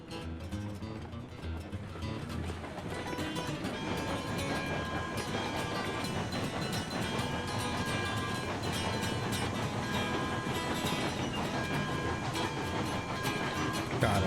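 Train rolling along the tracks in the railway game Railroads Online, a steady dense rumble with continuous clatter and a thick mechanical wash, loud and unbroken throughout with no talk over it.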